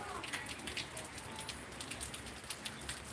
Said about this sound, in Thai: ฝนก็ตกหนักบ้างเบาบ้างสลับกันครับ